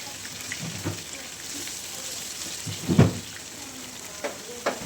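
Onions fry in a pan with a faint, steady sizzle, broken by occasional stirring clatters and one louder scrape partway through.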